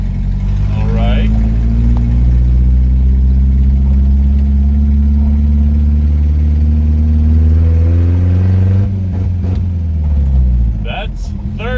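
A Datsun 1200 pickup's 60-horsepower engine pulls hard through the gears, a loud close growl that climbs in pitch, dips at a shift, then climbs again, with a voice heard near the end.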